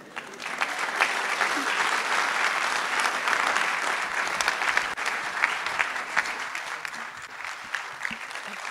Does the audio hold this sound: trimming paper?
no